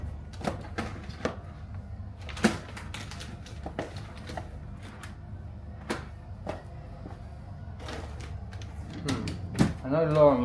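Rummaging through a top drawer in search of tape, with scattered clicks, knocks and rustles of objects being moved about, close by, between bursts of speech and breathing.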